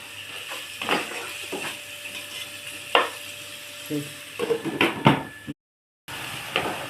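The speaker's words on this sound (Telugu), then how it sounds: "ఈ రొయ్యలు వేసుకొని ఇలా కలిపి మూత పెట్టేసుకోండి" Prawns fry with ginger, garlic and onions in a pan for a ridge gourd curry, a low sizzle punctuated by several sharp spoon-against-pan knocks and scrapes as they are mixed, with a short silent gap before frying resumes.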